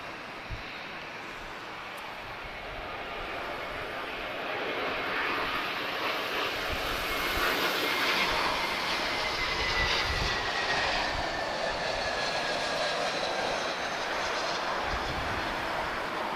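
An all-white Danish Air Transport Airbus A321 jet at Lisbon Airport roars past across the runway, a broad engine rumble that swells gradually and holds at a moderate distance.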